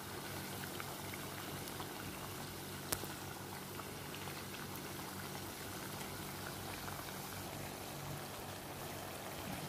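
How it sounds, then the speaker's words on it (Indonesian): Kue kumbu cakes fry in hot oil with a steady, soft bubbling sizzle that stays constant throughout, interrupted only by a single faint click. "Kita goreng hingga kuning kecoklatan."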